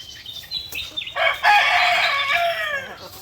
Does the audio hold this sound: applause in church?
no